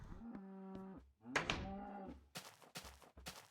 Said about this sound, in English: Those cows are loud,